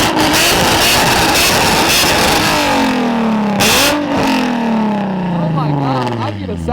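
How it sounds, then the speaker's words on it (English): Homemade exhaust with test pipes on a car at a Houston car meet, the engine revving hard and loud, then dropping into falling, sweeping pitch sweeps, with crowd noise and speech over it. "my boy just got a new exhaust. It's homemade. He also has test pipes."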